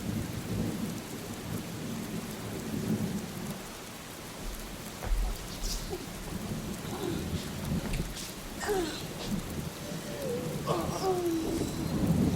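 Steady rain falls and patters on surfaces while thunder rumbles low and distant, with a few faint bird calls breaking through near the end.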